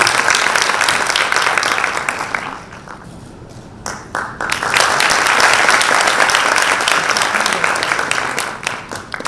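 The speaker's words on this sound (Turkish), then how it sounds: "Alkışlarınıza sahne alıyoruz." Dense applause from an audience at a youth conference as club presidents take the stage, loud sustained clapping with a brief dip midway before swelling again.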